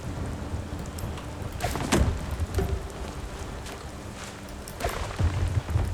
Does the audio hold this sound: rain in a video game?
yes